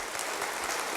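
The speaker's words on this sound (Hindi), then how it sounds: "अपने लिए जोर से तालियां बजाकर बैठ जाइए" An audience at a technical session on safety gives a brief burst of dense applause, a continuous wash of clapping with nothing else standing out.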